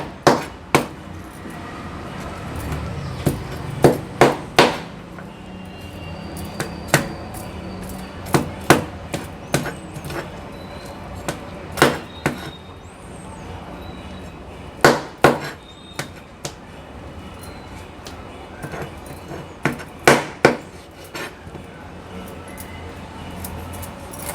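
A knife cuts the fins off a lady fish on a board, producing scattered sharp chopping knocks, sometimes in quick pairs, over a quiet background of faint handling noise.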